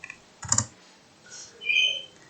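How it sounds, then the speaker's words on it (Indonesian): Typing on a computer keyboard: a few soft key clicks, then a short cluster of sharper taps, followed by quiet, faint tonal sounds; close and brief, with no talk. "pada label pada kelas kita ketikkan kelas saja"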